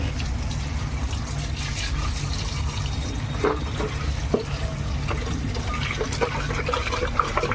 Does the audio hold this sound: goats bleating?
no